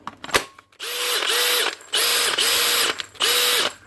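A Makita brushless cordless drill with a faulty chuck whirs at high pitch in three short bursts separated by brief pauses, after a couple of clicks at the start. It is loud and close.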